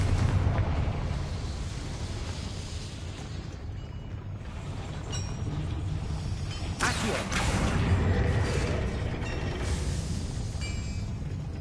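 A Confringo spell blast bursts open a door in the game Hogwarts Legacy, a dense rumbling eruption with a sharp burst midway, heard up close over a constant heavy roar.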